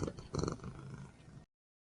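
A pet cat purrs close up in a soft, rumbling, rhythmic stream that cuts off abruptly, followed by silence.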